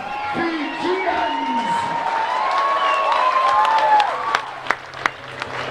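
Rugby test match crowd at Fiji v Scotland in Lautoka, a continuous roar of cheering and whoops from a large outdoor crowd, with a few sharp claps or whistles near the end under a commentator's voice.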